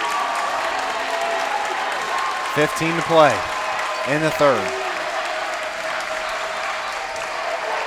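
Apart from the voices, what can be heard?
basketball crowd cheering and applauding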